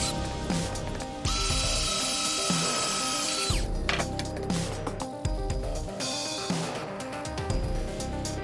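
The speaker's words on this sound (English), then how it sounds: "making pencil marks so that I can drill holes into the piece of wood" A power drill whirs loudly in a sustained burst, drilling holes into a piece of wood, then stops; clicks, clunks and shorter mechanical bursts follow, close by.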